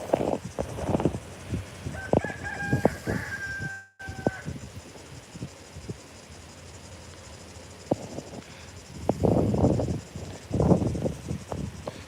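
Chickens cluck and scratch close by in short bursts, with quieter stretches between and insects buzzing faintly in the background.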